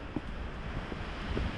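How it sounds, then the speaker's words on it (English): Wind on the Deep Gap Trail near Mount Mitchell on a chilly fall day under tree cover, a faint, low, steady breezy rush with slight gusts. "It's chilly and windy, but we still have some decent tree cover around us right now, so just a little bit of a breeze getting through."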